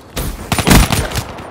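Rapid automatic gunfire in the video game Black Ops 3, a short burst of several close, loud shots in quick succession.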